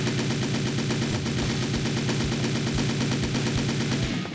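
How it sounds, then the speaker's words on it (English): A machine gun, the BFG in Game Builder Garage, fires a rapid, relentless burst of evenly spaced shots, loud and close for the whole stretch with no talk. "You got the BFG, or the machine gun."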